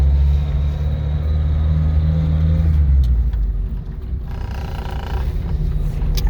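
A 1956 Ford Anglia 100E with a non-synchro gearbox and freshly cleaned carburetor jets pulls away, its engine rumbling loud and close as revs climb and drop through a gear change, with no talk over it.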